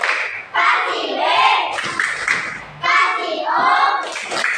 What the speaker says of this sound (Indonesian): Kita tepuk wow dulu untuk Deva ya